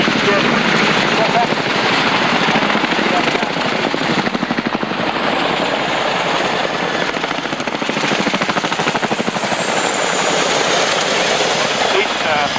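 Several military helicopters from squadrons based at Odiham in Hampshire flying in an air display, a loud continuous rotor chop with rapid rhythmic thumping that swells and eases, with talk over it.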